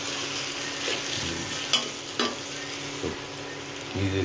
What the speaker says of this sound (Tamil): மீதி இஞ்சி பூண்டு பேஸ்ட் இதில் போட்டு லைட்டாக வணக்கிட்டுறாங்க